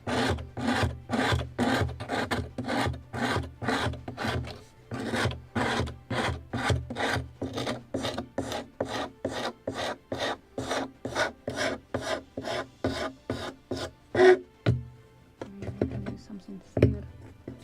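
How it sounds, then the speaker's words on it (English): Steady rhythmic rasping strokes, dozens in a row, as sandpaper is worked along the edge of a wooden model ship hull, fairing a 1776 gunboat Philadelphia model; close and fairly loud, tapering into a few scattered handling sounds at the end. "we need to sand it so entire edge will be sanded"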